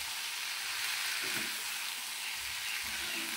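Dried mushrooms, boiled beforehand, cook in a pan over a low gas flame in a village-style gravy, giving a steady soft sizzle with faint stirring scrapes and no talk.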